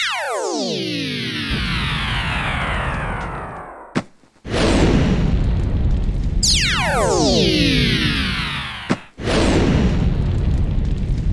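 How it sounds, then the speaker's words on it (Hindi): Loud cartoon explosions tear through a burning firecracker factory: two big booms, each followed by long descending whistling streaks and roaring crackle. A sharp burst snaps near 4 and 9 seconds before the rumbling blasts resume. "अरे पटाखों की फैक्ट्री में आग लग गई"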